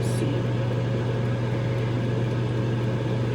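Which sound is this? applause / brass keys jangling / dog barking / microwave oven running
microwave oven running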